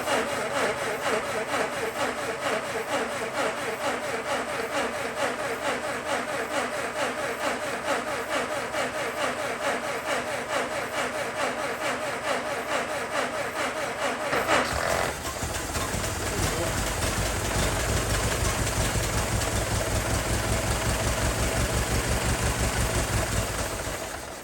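A 1914 Ford Model T Speedster engine cranks with a rapid, rasping rhythmic churn, then catches and runs with a rougher, fuller, lower-pitched roar, loud and close throughout.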